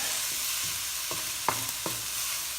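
Pork belly and onion fry in a pan, a steady close sizzle broken by several scraping stirs of a utensil against the pan, with no talking.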